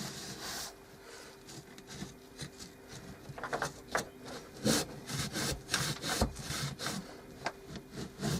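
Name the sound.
wiping excess sealant off wood with old rag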